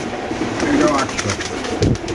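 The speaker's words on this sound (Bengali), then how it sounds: "একান্ন নম্বর কবুতরের কাছে একটা মাদি কবুতর" Pigeons coo softly at a pigeon farm, low murmuring calls rising and falling amid general ambient noise close by.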